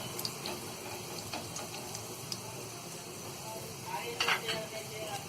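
Cumin seeds roast in hot ghee with a faint, steady sizzle and scattered small ticks and clicks, with a brief louder crackle near the end.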